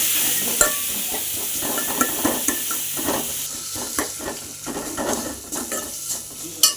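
Ingredients for a pulicha keerai (gongura) kadayal sautéing in a pan, a steady sizzle broken by repeated sharp scrapes and clinks of a spoon stirring against the metal, close and fairly loud, with no talking.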